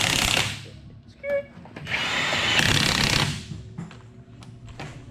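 An impact tool runs on the lug nuts of a 7.3 OBS Ford Powerstroke truck with aluminum wheels, giving close, loud buzzing bursts with brief ratcheting gaps and some speech around them.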